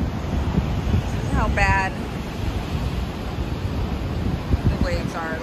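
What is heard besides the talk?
crashing ocean waves and wind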